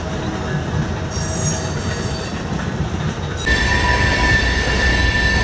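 A train rolls slowly past close by, wheels grinding on the rails with a high metallic squeal that grows sharper toward the end.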